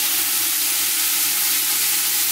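Leeks sizzle and fry in heated olive oil inside a large soup pot, a steady close hiss with no voices.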